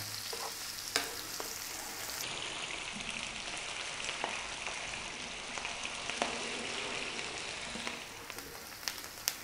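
Food sizzles in a pan over fairly high heat while making chana dal, a dense, continuous crackle with scattered clicks and scrapes as the pan is tossed.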